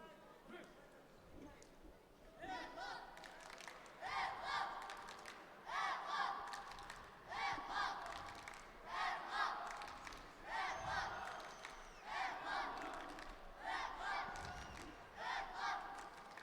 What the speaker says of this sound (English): Sherov also has some fans in the crowd cheering for him